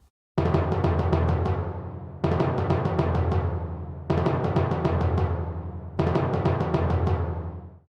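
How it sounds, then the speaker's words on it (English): Kettle drums part from a piece of music, four bursts of rapid booming timpani strokes, each rolling figure decaying before the next, loud and full with no talk. "That is the sound of the kettle drums."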